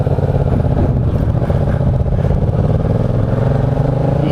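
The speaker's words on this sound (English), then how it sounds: "Might as well enjoy riding the bike for a little bit" A motorcycle rides off-road on dirt, its engine a loud, close, steady rumble with rattling clatter throughout.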